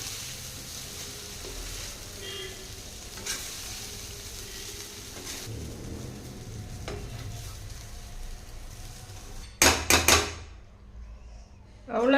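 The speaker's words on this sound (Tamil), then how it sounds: "கலந்து விடுறது வந்து கொஞ்சம் லைட்டாக நல்லா கலந்து விடணுங்க" A spoon gently mixes drumstick-leaf fried rice in a pan, with soft scraping over a low sizzle, then a few sharp metallic clinks near the end, close and moderately loud.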